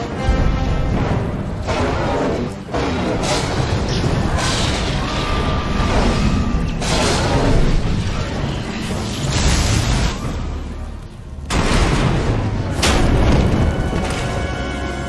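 Explosions in a Star Wars video game: a dense run of heavy booms and crashing blasts, loud and near, with rumbling between bursts and no clear speech.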